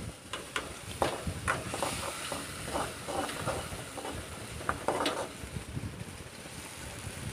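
Spices being stirred and fried in a pan, a steady hiss and crackle broken by repeated scraping and tapping strokes of a spoon throughout, fairly close and continuous, with no talking.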